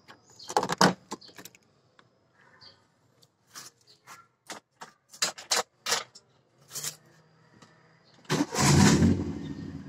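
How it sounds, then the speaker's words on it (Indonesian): An old boxy Toyota Starlet is started, with clicks and short mechanical clatters and a few brief cranking bursts, followed by the engine catching into a loud, rough idle at the end. "Nah, apakah sekali starter langsung nyala?"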